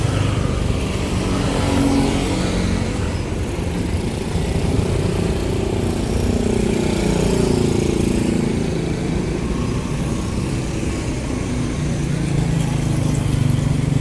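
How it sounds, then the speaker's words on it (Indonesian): Busy street in Indonesia thick with motorcycle traffic, a steady dense roar of engines passing close by, continuous and loud with no talking. "Kalau di Indonesia itu motor sangat ramai ya."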